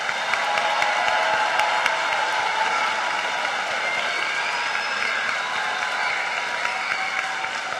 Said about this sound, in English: Let's give one more big round of applause to all of our nursing students